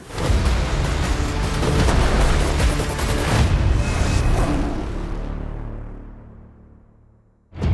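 A stunt explosion set off on the film set of Kraven the Hunter roars as a loud, sustained blast-and-rumble, then decays slowly over several seconds before another sharp burst cuts in at the very end.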